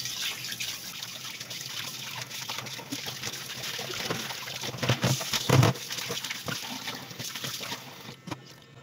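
Raw pork rinsed under running water while being cleaned for sinigang, with a steady trickle and splashing interrupted by handling noises and a few louder sloshes, nearby and moderately quiet, no talking.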